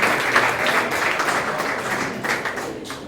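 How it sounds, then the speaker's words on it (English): Dense, warm applause from a conference audience fills a large room for a few seconds, steady clapping that tapers slightly toward the end. "give him a clap"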